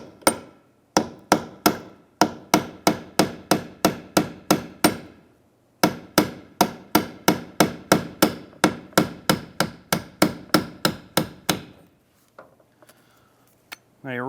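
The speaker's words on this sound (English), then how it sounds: "we're going to need a small punch that'll fit inside that area and a small hammer." Steady metallic hammer taps on a small punch driving a roll pin out of a 1992-1996 Ford F-150 vent window crank handle, dozens of evenly spaced blows in two long runs, close and loud, ending with faint clatter.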